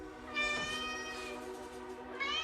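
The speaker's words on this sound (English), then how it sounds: "Got the cats" A house cat meows close by, one drawn-out cry followed after a pause by a second rising meow, with quiet room sound in between.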